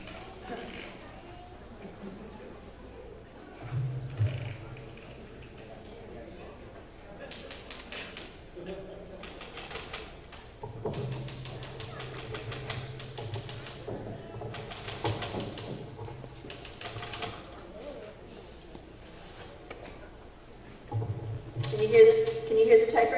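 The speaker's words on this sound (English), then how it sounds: "Can you hear the typewriter?" Dueling typewriters clack with sporadic taps and thumps, keys striking in uneven bursts under ongoing conversation, growing louder near the end.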